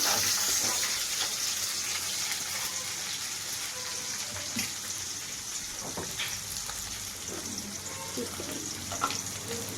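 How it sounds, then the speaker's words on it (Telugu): Onions and dried red chillies sizzle in a pan for a broad bean curry, with a continuous, even crackle and hiss like light rain, steady and close. "ఆనియన్, ఉల్లిపాయలు వేగాలి."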